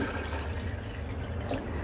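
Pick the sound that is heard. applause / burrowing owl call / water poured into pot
water poured into pot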